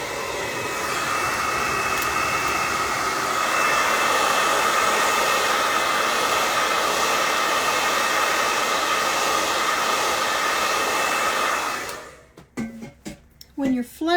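A hair dryer blows steadily and loudly for about twelve seconds while drying acrylic paint on a rustic wooden sled, then cuts off abruptly, leaving brief scattered handling noises.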